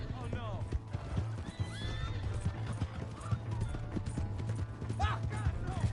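In Red Dead Redemption 2, a horse whinnies with rising and falling neighs while hooves clip-clop steadily nearby, loud and close, with characters shouting and talking over it.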